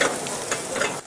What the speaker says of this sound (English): get the steak sizzling, and then add the knotweed